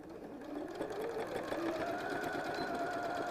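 A sewing machine stitches binding onto a quilt, running in one continuous, even mechanical whir with a slight rise in pitch, close and alone.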